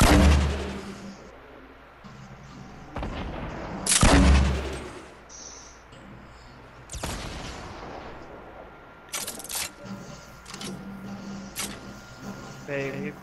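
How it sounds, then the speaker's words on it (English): A grenade launcher fires in the video game Fortnite, with several sharp booming shots spaced through the clip under game noise and people talking. "Grenade launcher."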